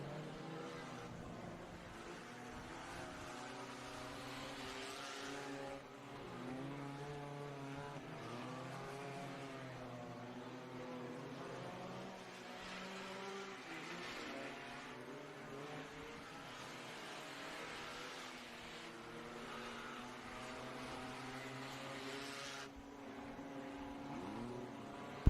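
Tuner class race cars lapping at I-44 Speedway during a hot lap session, a distant continuous engine drone rising and falling as cars circle, faint and steady throughout.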